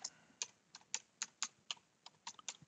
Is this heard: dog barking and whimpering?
no